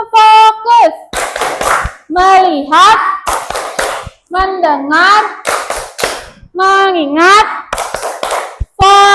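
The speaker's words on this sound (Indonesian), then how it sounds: "Tepuk fokus sekarang ya. Tepuk fokus." A classroom of children performs the rhythmic tepuk fokus focus clap, chanting in unison between sharp, patterned bursts of hand claps, loud and close, with a teacher's voice leading.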